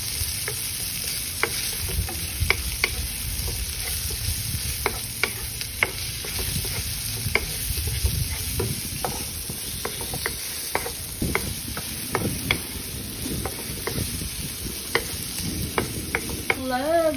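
Garlic and onions sauté in a hot pan for pork liver with onions, a steady close sizzle broken by frequent scraping and clinking stir strokes of a utensil against the pan.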